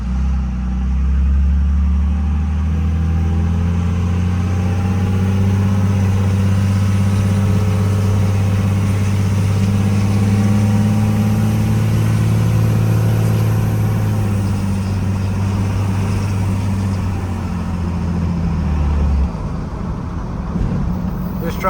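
A diesel pickup truck fitted with an EDGE tuner idles with a deep, loud steady rumble, its engine note swelling and shifting slightly before dropping off near the end; a person talks over it.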